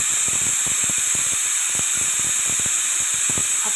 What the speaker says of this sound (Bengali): আর এই দেখেন আমি কীরকম মশলাগুলো ভালো করে ফ্রাই করতেছি।